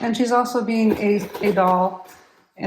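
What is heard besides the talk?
None of the usual background noises is heard.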